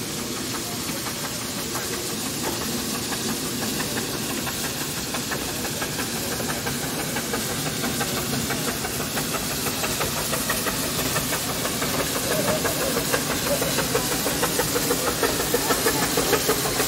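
Railway locomotive number 7, built in 1936, running with a steady mid-pitched engine drone, rhythmic knocking and hiss at a moderate distance, continuous throughout without voices.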